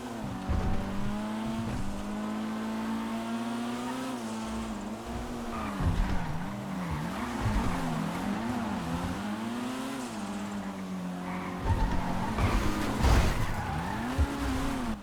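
A front-wheel-drive race car in a FiveM racing game, its engine holding a steady high drone with wavering revs, gear shifts and bursts of tyre squeal and skidding, close and continuous without talk.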